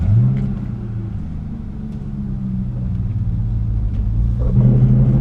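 A 1996 Ford Mustang GT driving, its engine giving a steady low rumble close by that swells slightly toward the end, with no voices.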